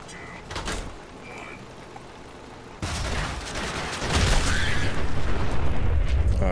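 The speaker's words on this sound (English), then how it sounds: "alright, big explosion there" A sentry bot in Fallout 4 self-destructs after its holotape command, setting off a loud explosion that begins suddenly partway through and swells into a heavy, sustained roaring blast with crackling debris.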